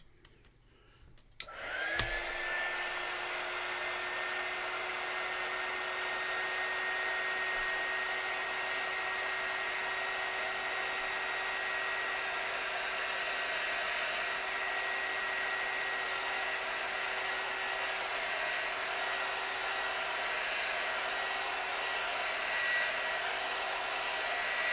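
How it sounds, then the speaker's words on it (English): A heat gun blows steadily to dry acrylic paint on a butterfly artwork, switching on after a brief click and then holding a loud, continuous whirring hiss for over twenty seconds with no talking. "I might do that quickly with the heat gun."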